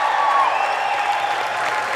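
Crowd applause and cheering at a political rally in the Long Beach Arena Pacific Ballroom, a dense, steady roar of clapping and voices filling the whole stretch with no break.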